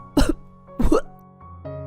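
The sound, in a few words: coughing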